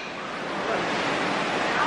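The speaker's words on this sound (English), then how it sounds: "I love the sound of the ocean. Doesn't it sound great?" Ocean waves washing continuously below a cruise ship deck, a steady, loud broadband rush with some wind noise that swells slightly over the moment, no talking.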